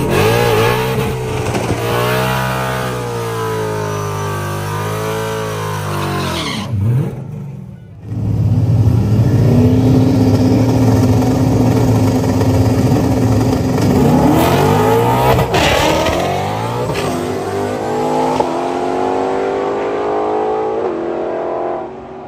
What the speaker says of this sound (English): His early 80s Mustang Coupe is a Coyote Swap nitrous car